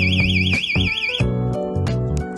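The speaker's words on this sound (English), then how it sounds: "If the luggage is touched or moved, it will ring." InnoCase luggage anti-theft alarm ringing loudly, a warbling electronic siren with rapid pitch wobble that cuts off after about a second, followed by pulsing lower beeps and clicks.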